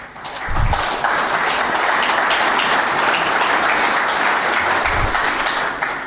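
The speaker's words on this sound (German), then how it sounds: "Applaus." Sustained audience applause at a security policy forum in Bayreuth, a steady, fairly loud wall of clapping that swells in quickly and holds for several seconds before tapering at the end, with no speech over it.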